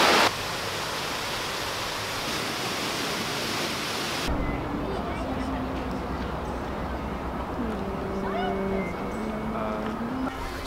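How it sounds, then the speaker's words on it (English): Powerful cascade of the Keller Fountain in Portland, a broad roaring rush of falling water that starts loud and close, then continues slightly more muffled with faint tonal sounds over it. "tune into the powerful waterfall, and also appreciate the complex layering of architecture"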